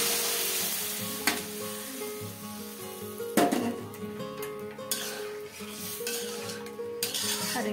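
Dal (lentils) tipped into a hot pan, frying with a steady close sizzle over a home kitchen, with a few sharp spatula-and-pot knocks and stirring bursts along the way.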